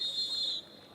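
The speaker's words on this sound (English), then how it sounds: "Whistle right off the draw." A referee's whistle blows at the draw in a professional lacrosse game, a single steady shrill blast lasting about half a second against a low arena hum.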